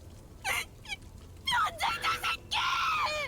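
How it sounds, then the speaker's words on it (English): Screaming noises in Limbus Company, a series of shrill, wavering cries coming in short bursts, several separate yelps followed by longer overlapping shrieks, loud and close. "Screaming noises."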